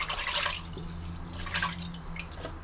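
Running tap water rinsing a Scotch bonnet pepper in a kitchen, a close steady splash with brief louder bursts as the water hits the pepper, no talk.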